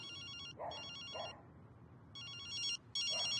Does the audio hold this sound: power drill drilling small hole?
no